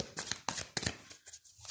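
Tarot cards are handled and shuffled in quick, crisp flicks, quiet and close, with a short pause near the end.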